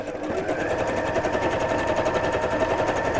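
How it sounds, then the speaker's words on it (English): Domestic sewing machine with a standard foot stitching a decorative stitch over ribbon, a rapid steady mechanical chatter of the needle running continuously and close, with no talking. "I'm just lining that up in the centre of just the standard foot on my sewing machine"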